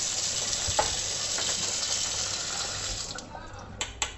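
Water runs steadily from the tap into a newly installed kitchen sink, a soft continuous splashing rush that stays fairly quiet, with a few small knocks near the end.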